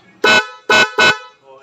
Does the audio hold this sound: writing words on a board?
no